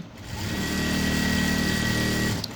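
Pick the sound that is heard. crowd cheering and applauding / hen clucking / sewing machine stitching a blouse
sewing machine stitching a blouse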